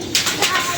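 Pigeons coo softly in a cold outdoor setting where grain and water are being set out for them, a few short murmuring calls over a faint background across under a second.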